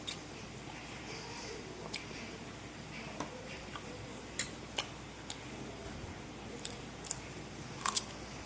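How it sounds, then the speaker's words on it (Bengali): Someone chews a boiled egg served with raw onion and green chilli, with soft, steady mastication sounds and a few sharper clicks and bites scattered through a quiet background. "চলো ডিমটা খেয়ে নি"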